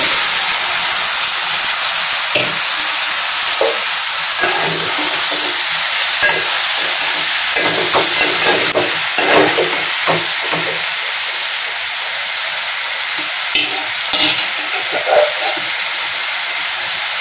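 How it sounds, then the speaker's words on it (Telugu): Boiled raw jackfruit pieces tossed into a hot oiled pan hiss and steam continuously, with irregular scraping and clinking stir strokes over the dense sizzle. "ఇప్పుడు మనం ఉడకబెట్టుకున్నాం కదా పనసకాయ, అది వేసేస్తాం"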